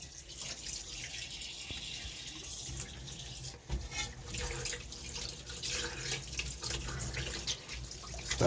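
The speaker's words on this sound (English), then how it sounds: "Starting by washing the fish like this." Tap water runs steadily into a sink as fresh turbot fish is washed for a Jamaican country-style soup, a continuous close splashing stream with faint drips.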